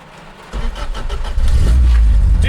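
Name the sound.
Toyota 86 engine starting and revving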